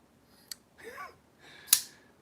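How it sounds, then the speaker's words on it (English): A folding knife's ceramic detent ball snaps against a broad, tensioned lock bar in two sharp, faint clicks about a second apart, with a soft breathy sound between them in an otherwise quiet room. "that's the ceramic detent ball on a really broad lock bar that has a good bit of tension"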